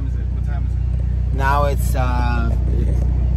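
Car driving on the road back to Los Angeles from Palm Springs at night, a steady low engine and road drone filling the cabin while a person speaks briefly over it.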